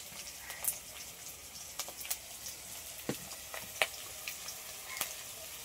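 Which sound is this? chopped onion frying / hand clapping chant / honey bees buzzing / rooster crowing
chopped onion frying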